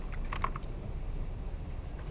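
Several people typing together on computer keyboards in a lecture room, a quick burst of overlapping key clicks early on, then fainter scattered tapping over steady room noise.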